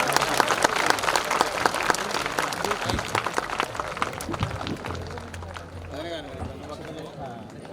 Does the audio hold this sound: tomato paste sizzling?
no